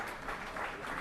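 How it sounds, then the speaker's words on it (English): Applause in the House of Commons for the departing Prime Minister: a dense, steady wash of many hands clapping together, fairly quiet and even throughout the brief moment, with no talking. "I'm sorry we're still clapping"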